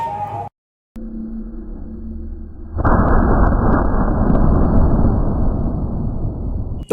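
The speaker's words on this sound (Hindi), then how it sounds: "अब चलिए इससे हम लोग कुछ पटाखों को जला करके देखते हैं कि ये काम करता है या नहीं" A firecracker set off with a remote-controlled igniter gadget. After a short quiet stretch it erupts in a loud, sustained roaring blast that rushes on for several seconds. No one speaks.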